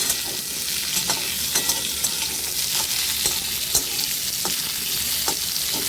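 Pointed gourd (potol) fries in a pan with a pinch of salt, giving a dense, steady sizzle close up, broken by light scraping clicks as it is stirred every second or so, with no talking.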